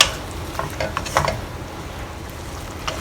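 Seasoning is stirred into Mee Siam gravy, a spoon scraping and clinking against the pot in a few short bursts over a steady simmering hiss, close and moderately loud.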